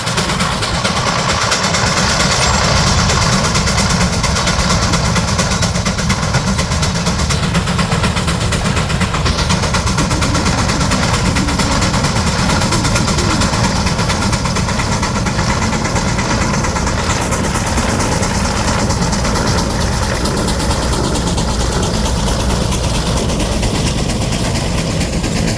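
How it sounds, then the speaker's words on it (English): A 1914 Waterloo steam traction engine hauls a 1912 six-bottom Big Dutchman Moline gang plow, giving a steady, loud low rumble and mechanical chuffing that holds unbroken throughout, with no voices. "this is a 1914 Waterloo steam traction engine, pulling a 1912 six-bottom big Dutchman Moline engine gang plow"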